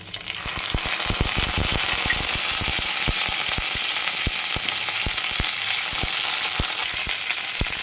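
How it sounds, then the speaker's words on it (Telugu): Dried red chillies and curry leaves fry in hot oil for a tempering for ridge gourd garlic curry, giving a steady loud sizzle with crackling pops and occasional stirring clinks throughout. "2 ఎండుమిరపకాయలు వేసి సరి కలిపి కరివేపాకు వేసుకోవాలి"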